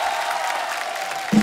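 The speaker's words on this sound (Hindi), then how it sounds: "जोरदार तालियां असरानी साहब के लिए।" An audience applauds the veteran actor Asrani at a show, a steady, full burst of clapping heard close. A brief voice cuts in just at the end.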